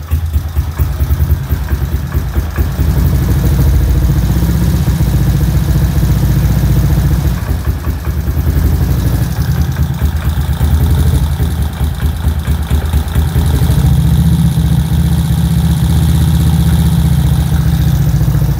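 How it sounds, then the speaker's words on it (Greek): A Kawasaki ZX130 motorcycle engine idles steadily and loudly, with a busy mechanical ticking from deliberately unadjusted valves running throughout, no voices. "Ακούγονται οι βαλβίδες πάρα πολύ, γιατί τις έχω αφήσει ξερύθμιστες επίτηδες."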